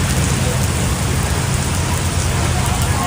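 Heavy North Texas thunderstorm rain pours loudly and steadily, a dense unbroken roar of drops hitting surfaces with a low rumbling undertone.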